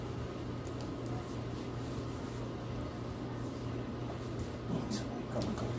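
A microwave oven running as part of a cleaning job, giving a steady low hum with a constant mechanical drone that stays even throughout, near and moderately loud, with a few faint clicks and no speech.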